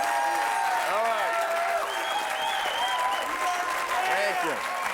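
A studio audience claps and cheers loudly and continuously at the start of a television show, with whoops rising above the dense applause.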